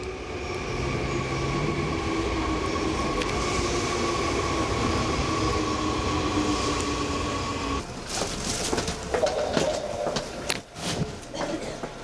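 A Seoul subway Line 2 train runs with a loud, continuous rumble and steady tonal hum, then shifts into clattering, rattling bursts as it moves along the track.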